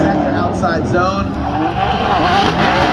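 A drift car at Formula Drift Irwindale runs hard and loud with tires squealing and engine roaring continuously, close and dense throughout.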